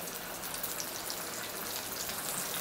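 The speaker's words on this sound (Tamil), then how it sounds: "நம்ம இது நல்லா டீப் ஃப்ரை பண்ணி எடுக்கலாம்" Potatoes deep frying in hot oil for a North Indian aloo curry, a steady dense crackling hiss that holds even and unbroken throughout, fairly quiet with no voices.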